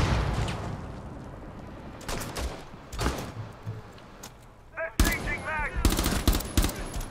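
Bursts of gunfire ring out in the tactical shooter Rainbow Six Siege, with several sharp volleys and rapid shots spaced across the stretch, moderately loud, while players talk in between.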